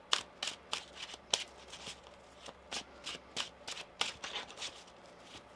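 Tarot cards being shuffled by hand during a reading, a steady run of quick, crisp riffling bursts close to the microphone, with no talking.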